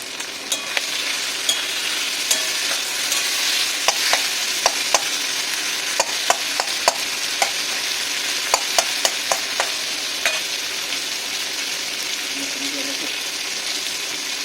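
Onions frying in oil for a Bengali fish-oil chorchori with greens and vegetables, a steady soft sizzle running throughout with scattered sharp pops and crackles spitting from the pan, close by.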